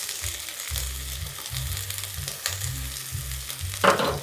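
Yellow and red peppers sizzle in a pan with beef fried rice, a steady close frying hiss broken by soft stirring scrapes and a low hum in the background, with no one talking.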